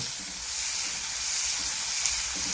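Sliced onions with green chilli and salt sauté in a pan for an onion curry, giving a steady, soft hiss of frying close by with no voices.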